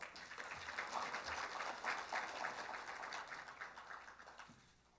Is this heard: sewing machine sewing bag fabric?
no